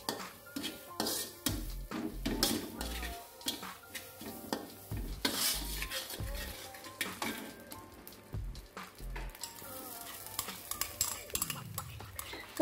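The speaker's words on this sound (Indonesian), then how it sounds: "Kita masukin ke dalam wajan, kita sangrai kurang lebih 3 menit atau sampai harum." Dried shrimp dry-roasting in a wok, with busy scraping and stirring strokes over a faint sizzle, close and fairly loud for the whole stretch.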